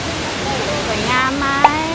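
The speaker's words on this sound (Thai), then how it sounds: "อันนี้คือน้ำตกชั้นที่หนึ่งนะคะไหลทูลัง" Steady rushing water from the first tier of Erawan waterfall in Kanchanaburi, a continuous broadband roar, with a voice speaking over it and a brief sharp sound near the end.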